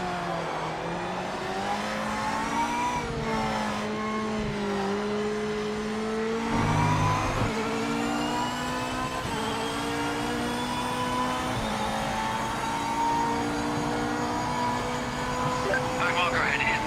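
Race car engines in the Project Motor Racing video game drone and rev steadily throughout, with shifting pitch as gears change and a brief dip midway, accompanied by a voice talking over the engine noise.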